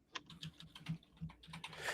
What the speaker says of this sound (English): All right, I'll let you do the typing.